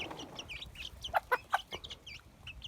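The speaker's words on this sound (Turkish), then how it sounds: "Bu bir ispenç arkadaşlar" Ispenç breed chickens cluck in a short series of sharp calls, with other birds chirping in the background outdoors.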